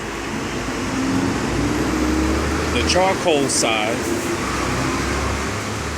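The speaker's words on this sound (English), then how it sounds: "hold on, I got a lot of traffic going by." Road traffic rolls past a food truck's charcoal grill in the Philippines, a steady roar of cars and engines with a brief voice speaking over it.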